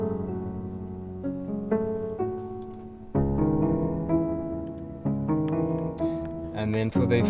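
Soft felt piano in a dark noir tone plays sustained chords, with fuller low notes entering midway and a quick flourish at the end, heard alone and fairly close.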